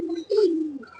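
A male pigeon of an old traditional breed line gives a short, close, low coo lasting about a second, with no voices around it.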